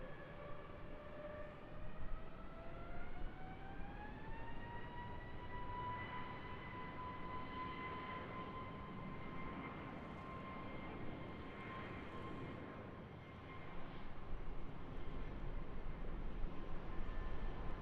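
A jet airliner departing Raleigh-Durham International Airport rumbles at a distance, a steady broad roar with a rising whine that levels off and holds, heard from outside without talk.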